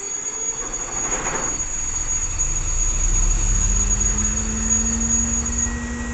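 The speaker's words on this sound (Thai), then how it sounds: "ตอนนี้เครื่องยนต์สตาร์ทติดแล้วนะฮะ" A CSR diesel locomotive engine starting up, with a low rumble building and settling into a steady idle beneath a constant high whine, a rising tone emerging partway through.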